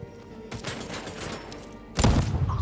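Automated turret fire in the game Deathloop, a burst of loud, dense shots erupting at the end after a lower stretch of scattered game sounds.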